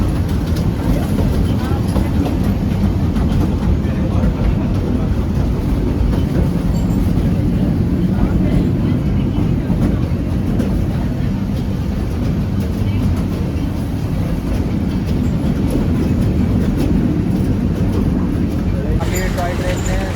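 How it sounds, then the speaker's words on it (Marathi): The Matheran toy train runs toward Neral station with a continuous loud rumble and clatter of wheels on rails, a steady rolling roar with no breaks. "टॉय ट्रेनने जात आहोत नेरळ स्टेशनपर्यंत"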